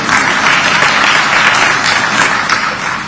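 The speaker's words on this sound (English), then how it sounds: "I believe, Josepha, you'll clap for me on that one." Loud, dense audience applause fills a hall during a speech at an African Union event involving Kenya's government, a steady wash of many hands clapping for about three seconds and tapering slightly at the end.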